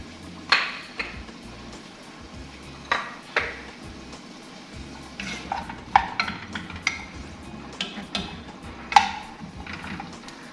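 Onions go into a pan for a Swahili biriani sauce and get stirred, with scattered metallic clinks and pings of a spoon against the pot over a soft background hum, close and fairly quiet.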